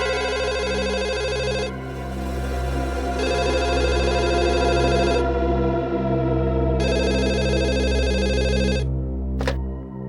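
A telephone rings in loud electronic bursts over a steady low hum, with pauses between the rings and a sharp click near the end.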